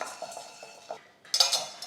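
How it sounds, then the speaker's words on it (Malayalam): Gram roasting in a kadai gives a few light scraping stirs and metal clinks, quiet and close, with a louder scrape near the end. "അപ്പോൾ ഈ കടലയും ചേർത്തിട്ട് നന്നായിട്ടൊന്ന് വറുത്തെടുക്കണം."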